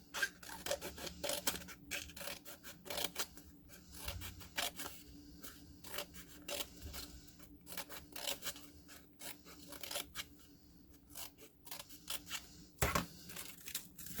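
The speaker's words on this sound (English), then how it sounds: "Now I can unroll it and I'll carefully start cutting, remembering to leave a little bit of space at the top." Scissors snipping a paper fringe for a spirit week hat, close and quiet, with many short irregular cuts and faint rustling of paper in an otherwise still room.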